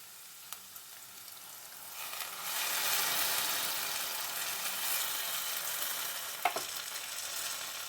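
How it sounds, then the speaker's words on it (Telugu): Tamarind juice poured into simmering dal in a pan, giving a steady bubbling sizzle that swells after a quiet start, with a couple of brief clinks from a spoon or vessel. "ఇప్పుడు మనం చింతపండు రసం కొంచెం తీసుకున్నాం కదా, అది పోసుకోవాలి కొంచెం."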